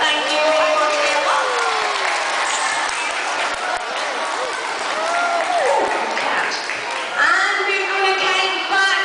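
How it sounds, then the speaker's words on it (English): Crowd applause at a sea lion show, mixed with cheers and voices from the audience, and a presenter's voice heard over the clapping. "give her a nice round of applause for going up"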